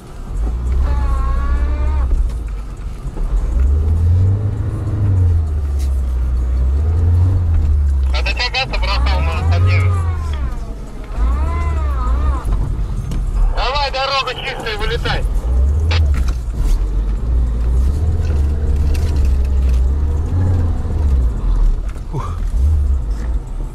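A Lada Niva drives with a steady low engine drone and road rumble throughout, under frequent talk from people inside the car.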